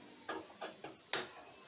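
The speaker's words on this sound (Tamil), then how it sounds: "அடுப்பு பற்ற வச்சுக்கலாம்." A gas stove in a home kitchen is lit for cooking: three faint igniter clicks are followed by a louder snap as the burner catches, with no talking.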